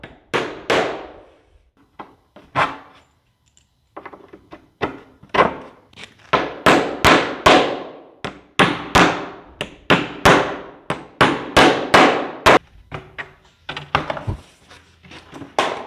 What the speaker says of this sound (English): You really have to hammer these bolts in to ensure they sit completely flush.